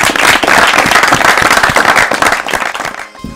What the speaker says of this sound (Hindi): आप अपने लिए ताली बजाइए